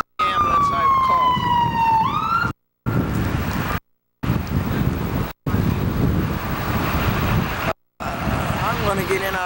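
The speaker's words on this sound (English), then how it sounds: "here are the police and the ambulance" Police car and ambulance sirens wail over windy outdoor noise, a descending siren sweep first, then choppy cut-up stretches of siren and wind rumble, fairly loud and nearby.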